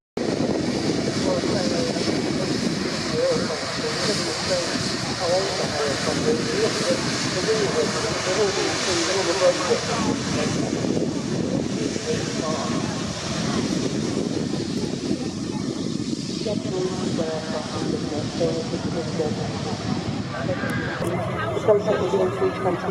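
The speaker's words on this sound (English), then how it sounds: "Boeing 757 Templar on the runway here." A Boeing 757 rumbles on the runway at Manchester Airport, a continuous broad engine roar that persists throughout and is mixed with heavy wind buffeting on the microphone.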